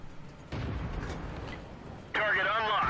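A T1 Heavy tank cannon in World of Tanks fires from behind bushes on Mountain Pass, a loud booming blast with a rumbling tail, followed by a louder burst of game effects and radio-like chatter.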